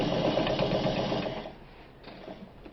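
A Japanese-made Free Westinghouse household sewing machine sewing fabric, a close, steady whirring chatter for about a second and a half that slows and fades into quieter mechanical clicks.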